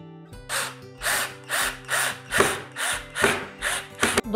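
A power drill drives screws into wood while mounting a fixture to a wall, giving about eight short, evenly spaced whirring bursts, each rising and falling, close and loud with no talking.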